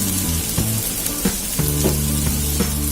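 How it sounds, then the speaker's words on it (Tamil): Okra (vendakkai) frying in a pan gives off a steady, close sizzle, with a few scraping stirs and small crackles rising above the continuous hiss. "வெண்டைக்காய் ஃப்ரை ஆகிட்டு இருக்கும்போது"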